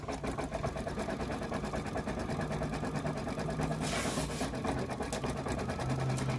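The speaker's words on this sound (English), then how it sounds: "it's going to do the zigzag stitch around to prevent any fraying" An embroidery machine runs a zigzag stitch around a shamrock coaster sewn in the hoop, a continuous, fast, even mechanical whirring and clatter that stays close and steady throughout.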